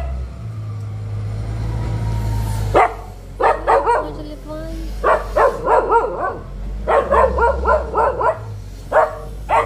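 A dog barks in repeated bursts outdoors, loud and near, with a steady engine-like hum underneath and a few whimpering or yipping sounds mixed in.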